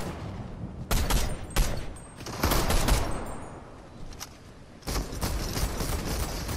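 Bursts of video game gunfire in Fortnite, several sharp volleys and rapid shots in quick succession with short gaps, loud and close, a sustained stretch of firing near the end.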